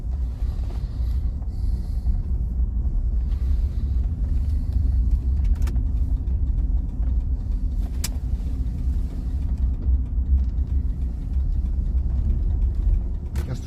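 Mercedes W126 coasting off the throttle, a steady low rumble of engine and tyre noise from inside the cabin, continuous and even with a few faint clicks above it.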